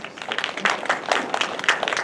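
An audience in a lecture hall applauds: a brief burst of dense, crackling handclaps from many people, moderately loud and without talk.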